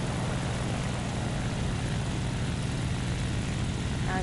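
Steady, droning propeller-engine rumble of a bomber aircraft in War Thunder, loud and continuous throughout, with no talk over it.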